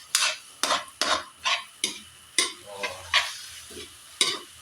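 Bitter gourd being stirred with egg in a pan, giving a run of about nine close, crisp scraping strokes in steady rhythm over a light sizzle.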